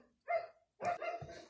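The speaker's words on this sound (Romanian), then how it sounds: "îmi cer scuze pentru cățel" A small dog barks two or three times in quick sharp bursts, close by and fairly loud, with no talk over it.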